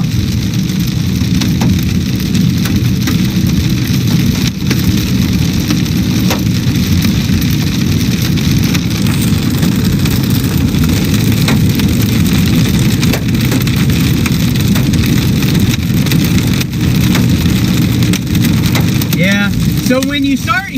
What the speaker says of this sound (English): So when you start hearing it getting less sporadic, that always makes me worry that it's about to be a lot bigger hail.